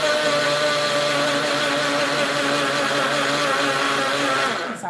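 A small kitchen blender runs loud and steady at close range, its high motor whine and churning buzz continuous for nearly five seconds before winding down at the very end.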